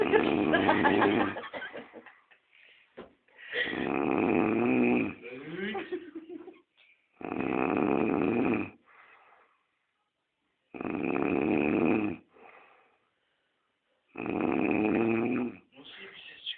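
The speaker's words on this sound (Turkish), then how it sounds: "Bu babamın horlaması." A father snores loudly in long rasping inhalations that repeat roughly every three to four seconds, close up, with quiet gaps between the breaths.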